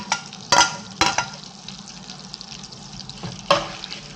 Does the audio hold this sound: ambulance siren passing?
no